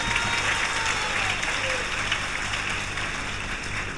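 An audience claps steadily throughout, a dense, even wash of applause at a devotional religious gathering, with no pauses and no speech over it.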